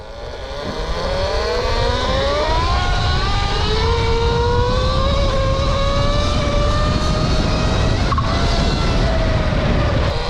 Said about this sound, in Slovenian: Samo gre dobro motor, res gre dobro.